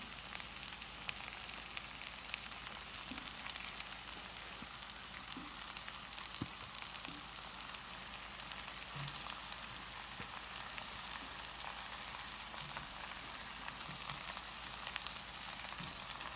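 Onions frying in a pan give a steady, faint sizzle that runs unbroken and even throughout, with no talking over it.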